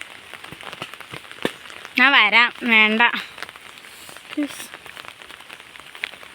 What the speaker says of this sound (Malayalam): പക്ഷെ മഴയാണ്